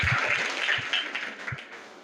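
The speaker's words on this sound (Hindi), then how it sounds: "आप लोग इनके लिए जोरदार तालियां बजाइए" Schoolchildren at a junior high school in Varanasi clap for a classmate's correct answer, a steady wash of applause lasting about two seconds, with a few low thumps underneath.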